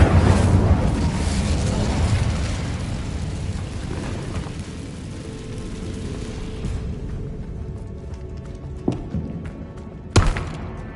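Incendio fire spell cast in Hogwarts Legacy on PS5: a loud roaring, crackling burst of flame that fills the first seconds and slowly fades, followed by a couple of sharp thuds.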